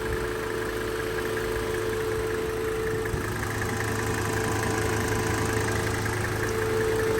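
A car's cooling fan runs alongside the idling engine, producing a steady whirring hum and a low engine drone, constant and close, with no one speaking.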